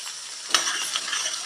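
Garlic, onion and tomato sizzle in a pan as they are sautéed for a yam tamarind curry, a steady hiss with a single sharp scrape of the spoon partway through.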